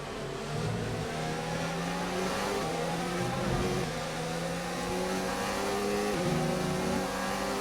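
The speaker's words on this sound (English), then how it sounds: "Verstappen's got a great punch out from a highly upgraded engine" Formula 1 race car engines in the F1 2019 video game, several high-pitched engine tones overlapping and shifting in pitch as the cars accelerate and downshift, a steady loud drone throughout with no talking.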